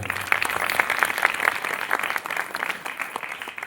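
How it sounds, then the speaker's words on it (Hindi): A church congregation claps together during a sermon about Bethlehem, a dense, slightly uneven burst of many hands that swells and then gradually thins out, heard fairly close with no speech over it. "ताली मारी प्रभु को धन्यवाद"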